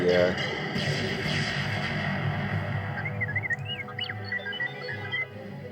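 Chirpy, warbling bird calls and squawks from the Angry Birds game play over a steady background hum, with a voice talking now and then.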